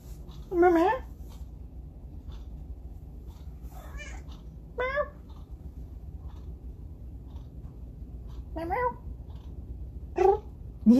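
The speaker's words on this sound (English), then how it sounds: "a little talky kitty meow meow" A small, talkative cat gives several short meows spread over a quiet indoor stretch, with the last few rising in pitch and a steady low background hum underneath.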